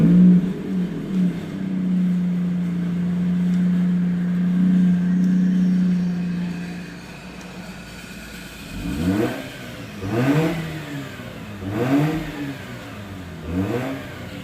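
A Mazda RX-8 with a valvetronic exhaust drones at a steady idle, then gives a series of four or five sharp, rising and falling revs, loud and close.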